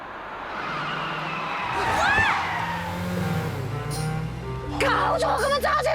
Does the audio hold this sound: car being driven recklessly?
yes